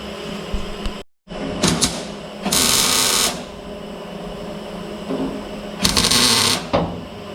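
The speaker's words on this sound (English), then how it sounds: "Welding that inner brace back together." Welding on the inner brace of a fabricated car door gives a steady crackling buzz with short bursts and pauses, close and fairly loud against a noisy shop background.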